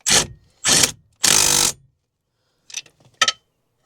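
Socket wrench ratcheting on wheel bearing bolts during a 2004 Chevy Impala wheel bearing replacement: three loud close bursts of clicking, then a few shorter, quieter ratchet clicks.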